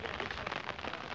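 Steady rain falls on a farm field on a Sunday evening, a dense, continuous patter of drops close by with no talk over it.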